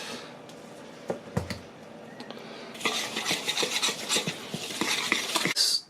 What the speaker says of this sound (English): I was just stirring that up